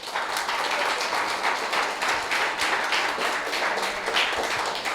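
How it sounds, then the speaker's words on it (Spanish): A church congregation claps in praise, a dense, steady wash of many hands applauding throughout, fairly loud and sustained without letup. "Dale un aplauso al Señor."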